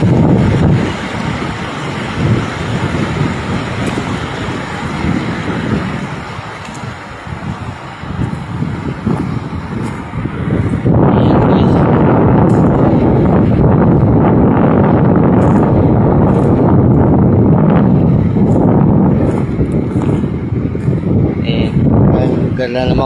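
Strong river current rushing beneath the Dig Dig Bridge in Caranglan, Nueva Ecija, a steady broadband roar buffeted by wind on the microphone, growing louder and fuller partway through.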